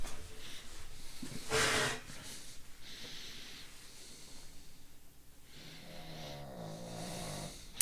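A person snores nearby in slow, uneven breaths, with a loud snorting burst early on followed by softer raspy inhales and wheezy exhales fading in and out.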